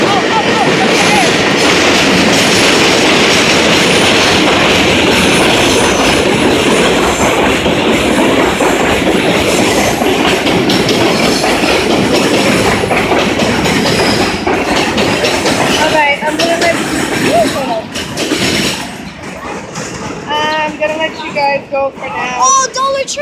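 A train rolls past close by, a loud continuous rumble with clickety-clack of wheels and some squealing, fading toward the end while people speak over it.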